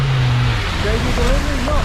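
A vehicle drives fast into the water at Rufford ford: a steady, loud engine and road rumble with a voice talking over it for a couple of seconds.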